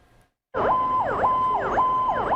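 A wailing emergency vehicle siren starts abruptly, cycling up and down in a steady repeating pattern, loud and close.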